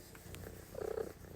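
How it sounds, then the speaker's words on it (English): A pet cat purrs close by in a quiet room, a soft rumbling purr that swells briefly in the middle of the short stretch. "You can probably hear her purring."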